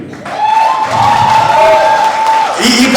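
Audience applause and cheering at a Malayalam movie audio launch for Bombay Positive, loud and sustained, with a speaker's voice carrying over the clapping.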